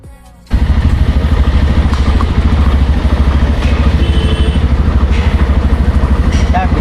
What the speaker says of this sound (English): BMW गाड़ी